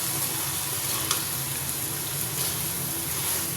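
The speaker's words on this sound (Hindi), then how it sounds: "अब इसमें शामिल करते हैं टमाटर। इसको भी भून लेते हैं।" Tomatoes are added to a pan and fried for chicken macaroni, giving a steady, fairly loud sizzle that continues throughout without pause.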